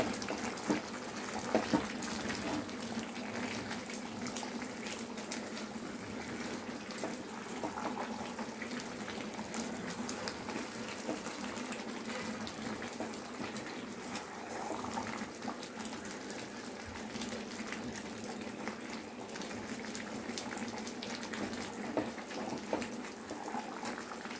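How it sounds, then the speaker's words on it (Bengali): Water pours steadily into a pan of Kerala-style chicken curry, a continuous gushing splash at close range with no voices. "আর একটু জল দিয়ে দেবো, কারণ এবার চিকেনটা তো রান্না হবে"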